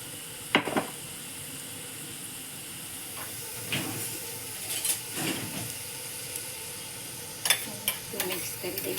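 Sauces and vinegar stirred in a hot pan, a steady low sizzle and hiss broken by several scraping stirs and clinks, with no talk over it.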